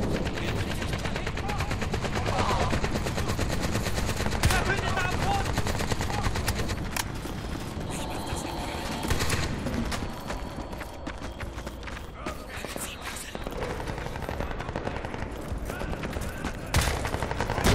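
Rapid automatic gunfire rattles through a Crysis 2 multiplayer match, dense repeated bursts of shots over a noisy game mix, with a player talking over the action.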